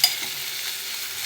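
Chopped tomatoes sizzle in a hot pan while being stirred for a dried tail-fish pulusu curry, a brief, close, steady hiss of frying with a soft scrape at the start.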